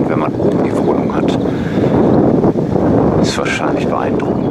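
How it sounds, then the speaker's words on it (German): Strong wind roaring across the microphone by Lake Müritz, a constant blustery rush with gusts rising and falling, faint splashing underneath. "Am Wasser kann man auch wieder einigermaßen erkennen, dass es doch recht windig ist"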